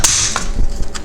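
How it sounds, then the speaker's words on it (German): A few sharp plastic clicks snap in quick succession as a latch on a 2000 VW T4 instrument cluster engages during reassembly, close and crisp against a quiet background. "Man hört auch immer, ob es eingerastet ist."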